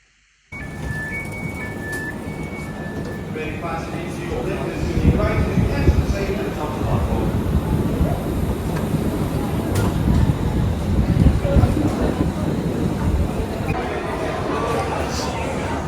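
A Merseyrail suburban interchange train rumbles steadily with low rolling noise and brief high tones early on, while people talk over it nearby.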